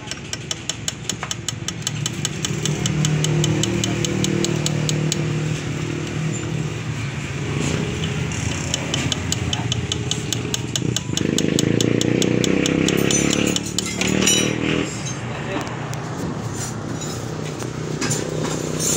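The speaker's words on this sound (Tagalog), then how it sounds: "kung naririnig nyo yung kanyang connecting rod, sira na rin" A Rusi Reader 150 motorcycle engine idles close up with a worn, failing connecting rod, giving a steady rapid ticking knock over a continuous mid-pitched engine drone that swells slightly partway through.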